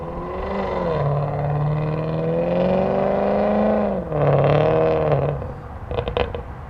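Audi car engine revving hard, a loud, close, rising and falling drone held for several seconds before easing off, followed by a brief rev and a few sharp popping backfires at the end.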